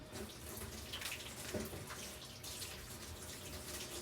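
Water from a kitchen tap runs in a steady, soft hiss as celery is rinsed under it, with faint splashing and no voices.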